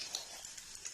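Whole cumin seeds, a bay leaf and cloves sizzle quietly in hot cooking oil for a fish masala curry, a soft, steady crackling hiss with a few small pops.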